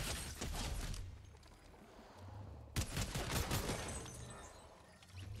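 Rapid bursts of assault rifle fire in the video game Fortnite, with dense crackling volleys that pause briefly before another sustained barrage, mixed with mechanical clatter at moderate level.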